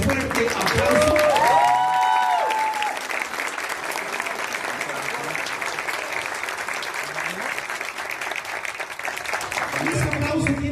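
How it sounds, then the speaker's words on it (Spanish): A crowd at a book presentation breaks into loud, sustained applause with a few whoops and cheers near the start, then steady clapping continues at moderate volume, with a voice briefly audible near the end. "para que también pido un fuerte aplauso."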